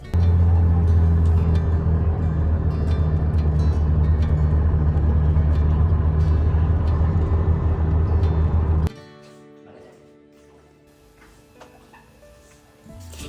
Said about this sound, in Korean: 저희는 버스를 타고